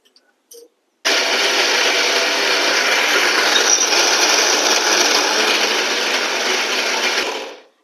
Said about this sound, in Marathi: आता मी हे मिक्सर मधनं बारीक करून घेणार आहे